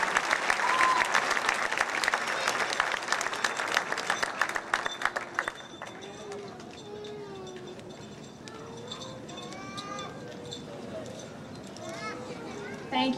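A school awards-ceremony audience applauds award recipients, dense clapping in the first half thinning out, followed by a speaking voice with scattered claps and crowd murmur underneath.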